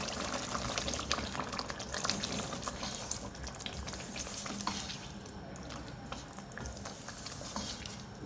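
Mutton with whisked yogurt sautés in a pan, giving a soft, continuous sizzle with scattered crackles and occasional stirring scrapes, faint and steady throughout.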